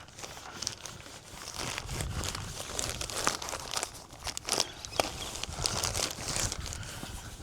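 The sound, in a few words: yurt insulation being tucked and handled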